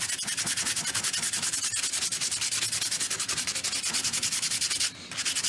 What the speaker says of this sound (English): Let me sand it first.